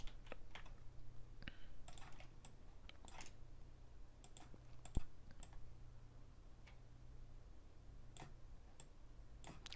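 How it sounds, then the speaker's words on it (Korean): Keyboard keys tapped while entering Photoshop shortcuts, faint irregular single clicks and short bursts of typing spread across a quiet room hum, with no talk. "Alt 딜리트 키 눌러서"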